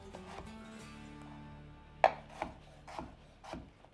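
Knife cutting a mango into chunks on a board for warm mango with chili agave, several sharp chopping strikes at a steady pace after a quiet start, close and fairly soft.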